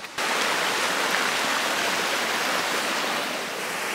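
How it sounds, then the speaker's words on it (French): Rushing mountain river water flows in a continuous broad hiss, steady and close, starting abruptly and easing slightly toward the end, with no voices. "faire découvrir le petit spot rivière qu'on a juste derrière"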